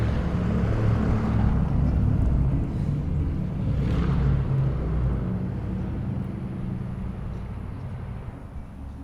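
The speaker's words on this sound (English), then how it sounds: "their cars are leaving as they leave school, so I heard a lot of exhaust" Steady low rumble of car engines and exhaust as cars leave a school, fairly close, swelling and fading slightly as vehicles move by.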